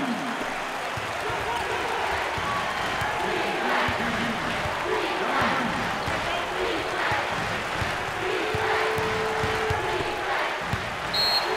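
A college basketball crowd in a packed student section at Houston roars and cheers for the home team in a steady, loud wash of noise, with the thump of a bouncing ball and a commentator talking over it.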